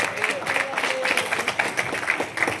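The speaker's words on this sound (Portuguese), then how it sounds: "E aplauda Jesus de Nazaré, igreja" A church congregation at a thanksgiving service claps in praise, a dense rolling wash of applause mixed with voices and cheering, loud and close.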